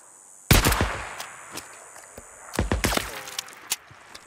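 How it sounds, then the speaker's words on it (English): Gunshots ring out in the video game Days Gone, a loud close burst of rapid shots followed by a second cluster of cracks and echoes, with no talking. "One more shot should do it."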